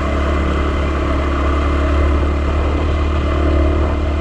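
A Yamaha WR250R motorcycle labors up a loose gravel hill in third gear, its engine a steady, loud, close drone with rough clattering texture throughout and no speech.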